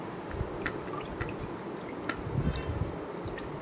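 Pomegranate juice pressed and dripping through a strainer, with soft wet drips and small squishy liquid sounds over a steady low background, close and quiet.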